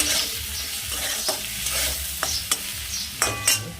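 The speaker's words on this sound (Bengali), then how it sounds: "তারপরে এক চামচ মতন হলুদ দিয়ে দেবো চলো একটু নাড়িয়ে দিই ভালো করে" Turmeric being stirred into small river fish frying in a pan for a curry, with a steady sizzle and a few sharp spoon scrapes against the pan, close and without talk.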